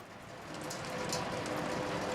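Steady rain in the video game Shadows Over Loathing, a soft continuous patter that swells slightly after the first half second and then holds even, with no talk over it.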